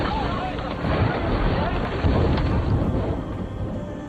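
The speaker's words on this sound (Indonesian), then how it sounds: "sebuah gemuruh dilanjutkan dengan sambaran petir hebat kembali mengguncang badan pesawat" Heavy thunder from a film storm scene rumbles continuously as lightning strikes an airplane mid-flight, a loud, dense roar with wind and rain, while a narrating voice talks over it.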